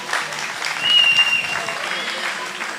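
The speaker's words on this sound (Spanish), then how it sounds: "un aplauso para Diana, que moderó muy bien esta conversación" An audience at a literary talk with a writer and critic applauds its moderator, a full, steady wash of clapping that swells midway while a voice speaks over it.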